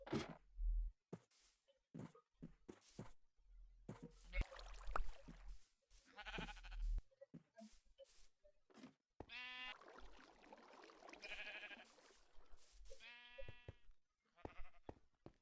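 Sheep in the Minecraft video game bleat repeatedly at a wool-shearing pen, short scattered calls in uneven bursts with quiet gaps between them, fairly close and clear.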